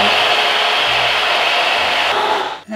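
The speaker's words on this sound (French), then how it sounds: "Machine miracle et on mixe." Kitchen machine blending a pasta salad dressing, a loud steady whirring motor hum that winds down abruptly at the end.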